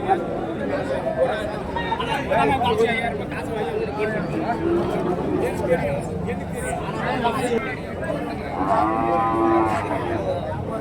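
Cattle low repeatedly amid a busy outdoor crowd at a cattle market in Orappam, Tamil Nadu, deep moos rising over steady chatter and background murmur of many people.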